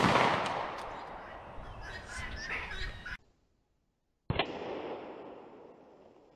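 Pistol shots at targets 100 yards away with an S&W 5906 or Arex Delta handgun, two sharp, loud outdoor reports with a short silent gap between them, each trailing off into a fading echo.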